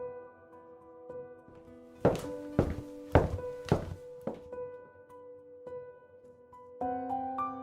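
Footsteps play as a sound effect in a fantasy audio drama. A series of heavy, hollow thunks lands in a steady walking rhythm over a soft, tonal musical drone, with no voices.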